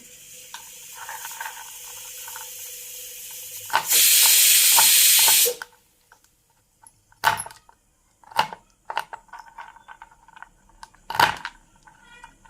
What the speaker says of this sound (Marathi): रताळ्याच्या शिऱ्यासाठी आपण ड्रायफ्रूट बारीक करून घेऊ